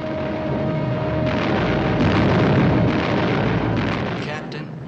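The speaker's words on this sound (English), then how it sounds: "Look at those guns go." Heavy guns and explosions rumble through a 1958 war film about the Tarawa beachhead, a dense, loud, continuous roar of booming fire without clear breaks.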